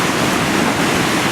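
Sea waves wash steadily onto the shore in a loud, continuous roar of surf, with no voices.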